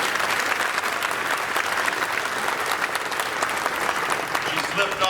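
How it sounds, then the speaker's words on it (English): A crowd claps through a full round of applause at a groundbreaking ceremony for a veterinary school, dense and steady from start to finish. "let's give Kendra a round of applause wherever she is"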